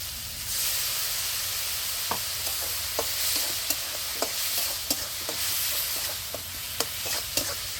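Spice masala of cumin and coriander powder fries with tomato and onion for a pabda fish curry, a soft steady sizzle punctuated by repeated light spoon clicks and scrapes against the pan.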